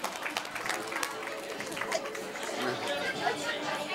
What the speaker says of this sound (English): Let's give Mia a big round of applause